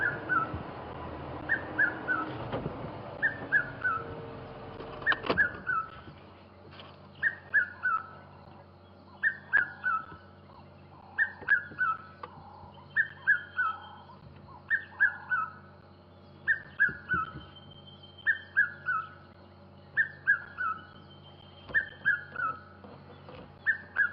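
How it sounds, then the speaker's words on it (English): A bird calls from a leadwood tree during a sunset safari drive, repeating a short whistled note pattern at a steady pace about every second and a half. It sounds moderately distant over a low engine hum, with no voices. "Somewhere, this bird is somewhere in the leadwood, just to the right of this monkey."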